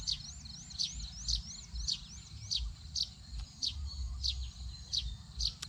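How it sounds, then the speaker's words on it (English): A small bird hidden in a tree overhead chirps repeatedly in quick, rhythmic bursts of high twittering notes, fairly close, over low outdoor rumble. "There's a little bird sitting in this tree above me here. I can hear him"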